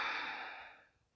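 A single soft exhale during a yoga flow, a breathy sigh close to the microphone that fades out over about a second.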